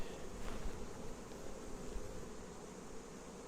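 Honeybees buzz in a dense, steady drone as they cluster on a hive frame in a queen-rearing colony, the swarm sound close and continuous throughout.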